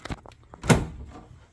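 Built-in bedroom closet door in a house swinging open, a single close thunk with a brief rattle, preceded by faint soft knocks, no talking.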